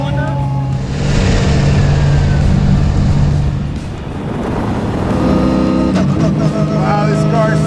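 A 700 hp Chevy C5 Z06 Corvette race car blares its engine loudly and continuously up close, with a brief dip near the middle where the ignition cuts for a no-lift shift before the roar resumes; people talk over it.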